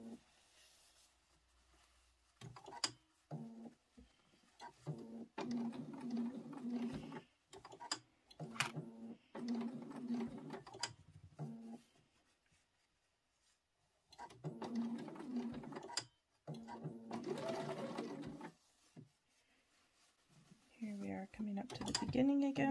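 Sewing machine stitching a carry-all pencil case in a series of steady, close runs of rapid mechanical chatter, stopping and restarting several times, with a voice speaking quietly near the end.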